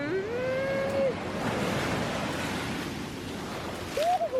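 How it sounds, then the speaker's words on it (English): A big ocean wave breaks and washes in as a broad, steady roar of surf with wind noise. A person makes rising vocal exclamations at the start and end. "Oh, that's a big wave."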